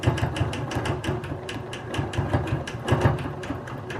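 A sewing machine runs continuously during free motion quilting of flowers and leaves, its rapid needle strokes pulsing in an even rhythm, close and steady throughout.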